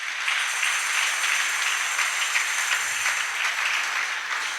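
A church congregation breaks into sustained applause, a dense, even wash of many hands clapping together that stays loud from start to finish with no voices standing out.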